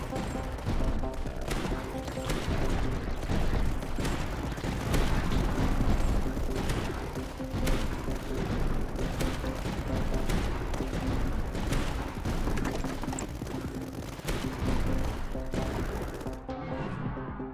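Mortar turrets firing in the tower defense game Tower Dominion, a dense continuous barrage of overlapping booms and crackling impacts, loud and sustained throughout, briefly thinning at the very end.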